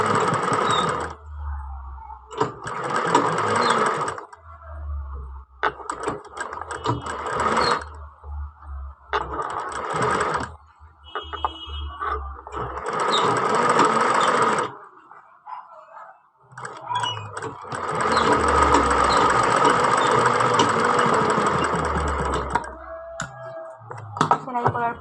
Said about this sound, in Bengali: কাপড়ের উপরে বসিয়ে সেলাই করবো